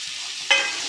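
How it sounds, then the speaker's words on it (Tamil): Raw mango pieces hit hot oil in a pan for chutney, a soft sizzle broken by one sharp clatter and scrape partway through, alone with no talk. "ஓரளவுக்கு வதங்கின பிறகு மாங்காயும் போட்டுக்கலாம்"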